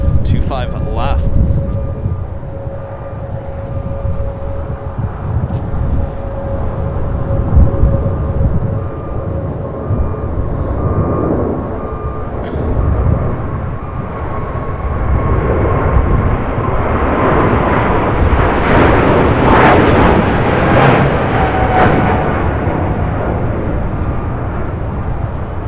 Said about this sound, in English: This is Nippon Cargo Airlines 101 taking off to Tokyo Narita on a 747-8 freighter